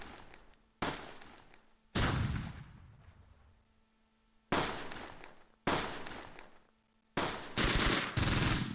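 Gunfire in the World War II strategy game Close Combat, set around Caen in June 1944, comes as several separate sharp bursts, each booming loudly then tailing off, with short gaps between and a quicker double burst at the end.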